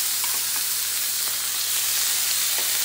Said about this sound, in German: Dann geben wir ein bisschen Öl in die Pfanne und darin das Hähnchen an.